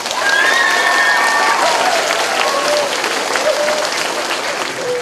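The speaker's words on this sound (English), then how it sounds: "would you give a wonderful roaring round of applause to your music teacher, Mr. Olmos." A school audience at a Music In Our Schools Week concert gives a roaring round of applause for the music teacher, dense steady clapping filling the room with faint voices mixed in.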